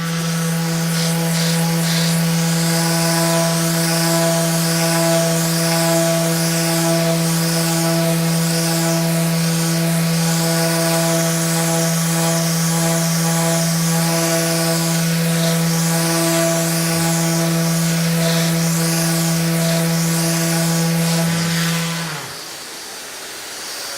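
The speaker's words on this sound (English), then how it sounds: "now with the sander, because I know exactly where the areas are that need to be reworked, we can go over those" Festool ETS EC 150/3 eccentric sander running steadily on a surface, a sustained electric whine with a wavering hiss as it works the surface, then winding down and stopping near the end.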